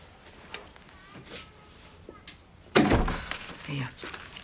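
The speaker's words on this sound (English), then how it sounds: "Shut the door behind you." An indoor door in a house is shut with a solid thud and rattle partway through, following quieter shuffling and muffled movement, with some voices in the background.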